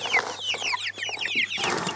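Young chickens cheep and cluck busily close by, with overlapping high chirps and no talking.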